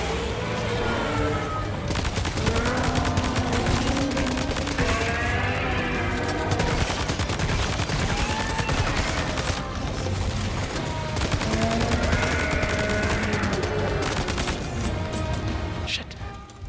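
Sustained rifle fire in the game Death Stranding 2: On The Beach. A dense, continuous rattle of shots runs the whole time beneath a loud, tonal musical or ambient layer, with no pauses.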